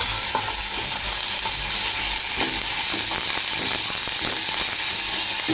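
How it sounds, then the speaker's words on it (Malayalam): Chopped onions fry in hot oil with ginger and garlic in a home kitchen. A loud, continuous, close sizzle holds steady with light stirring clicks and no talking. "നമ്മൾക്ക് അരിഞ്ഞ് വെച്ചേക്കുന്ന സവാള അതിനകത്തിട്ടിടാം."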